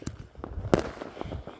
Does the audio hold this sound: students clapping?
no